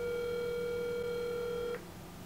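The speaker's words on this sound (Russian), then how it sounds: "сейчас я буду вам звонить. Погнали! Поехали, звоним." A single long telephone ringback tone sounds on a call to Russia, holding steady and clear for under two seconds before it cuts off and leaves faint line hiss.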